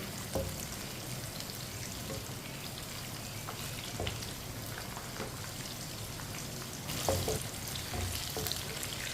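Pakoras frying in hot oil, heard as a steady, dense crackling sizzle, with occasional scrapes and clinks from a spoon stirring them through the oil.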